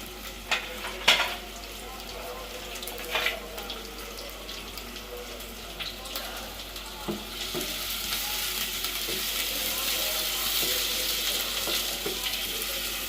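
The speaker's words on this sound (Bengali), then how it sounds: "পেঁয়াজটা ভাজা ভাজা করার জন্য একটু অপেক্ষা করব" Chopped onions fry in a pan for a Bengali home-cooked meal. A few clinks and stirring knocks come early, then a steady hiss of frying grows louder and stays at a moderate level.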